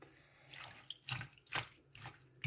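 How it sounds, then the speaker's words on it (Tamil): Spinach greens are washed in a basin of water, giving a few soft swishing splashes in quick succession, fairly quiet and close. "நாங்கள் மன திருப்திக்காக ஒரு ரெண்டு தண்ணியில் கழுவினோம்"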